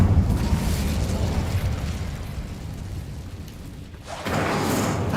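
A roaring, sustained whoosh of flame from the Incendio fire spell in Hogwarts Legacy, loud and dense throughout. It dips briefly near the end, then surges back up.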